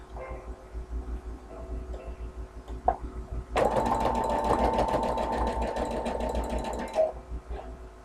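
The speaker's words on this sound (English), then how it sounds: "I'm going to sew all the way around, making sure that I'm at the hexagon." Sewing machine stitching around a beaded fabric hexagon: a steady, close mechanical whir with fast rhythmic needle chatter for about three and a half seconds, with quiet handling noises before and after.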